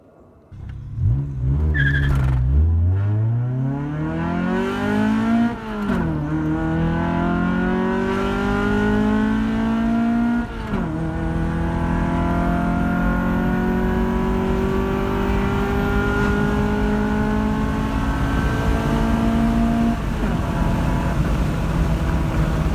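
A Honda Civic with a D16 engine and SRS header drives hard, the engine revving up through several gears with rising pitch and brief drops between shifts, loud and close throughout with no talk.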